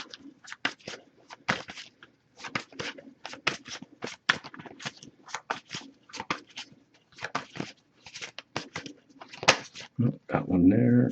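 A tarot card deck is shuffled close by, giving a long run of quick, papery flicks and soft slaps in irregular bursts, with a denser flurry of card handling at the end.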